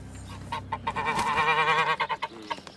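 Wild geese honking in a rapid, loud series of close calls that break into shorter separated honks toward the end.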